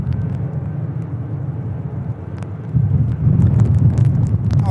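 A Ryanair airliner on approach to land at Manchester Airport in stormy weather, a low jet rumble that swells louder toward the end amid gusty wind noise.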